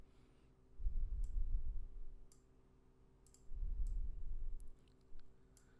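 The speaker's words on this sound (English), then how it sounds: "right click and rename" Several sharp, faint computer mouse clicks sound at irregular intervals while using JupyterLab, scattered over a quiet room background with a couple of low muffled rumbles.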